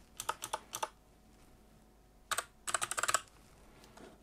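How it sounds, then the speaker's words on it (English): Quick bursts of keystrokes on a computer keyboard, two short groups and then a longer run, close and clear with no talk. "click on Start and type in regedit"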